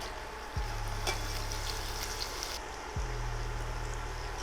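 Low carb pork egg roll frying in hot oil, a steady crackling sizzle with two fresh bursts as pieces drop in, a low hum running beneath.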